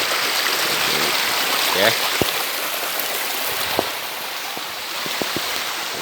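Water rushes continuously at the Sungai Melaham waterfall, a loud broad roar filling the whole stretch, with a brief spoken word and a few faint knocks over it.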